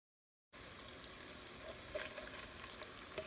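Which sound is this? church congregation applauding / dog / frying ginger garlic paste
frying ginger garlic paste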